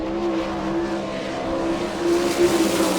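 Sprint car engine droning steadily at speed on a qualifying lap at an All Star Circuit of Champions dirt race in Rossburg, Ohio, loud and sustained with a rising pitch near the end.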